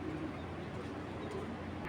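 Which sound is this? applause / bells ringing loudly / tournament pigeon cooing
tournament pigeon cooing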